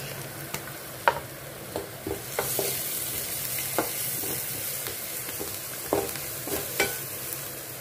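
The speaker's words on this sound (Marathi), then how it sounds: "चांगला परतू द्यायचा, मस्त लाल थोडा होऊ द्यायचा" Chopped onion sautéing in a hot pan for a bread breakfast dish, with a steady bright sizzle and irregular scraping stirs of a spoon against the pan, no voices.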